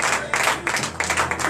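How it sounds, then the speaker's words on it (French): A church congregation at a French-language worship service breaks into lively clapping and cheering, bursts of hand claps rising and falling in quick uneven waves, close and fairly loud. "Donnez de vives acclamations"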